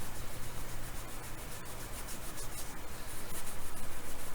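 Metal chassis of a Hallicrafters S-40 radio being scrubbed during restoration, a close, continuous rhythmic rasping and rubbing that grows slightly louder toward the end.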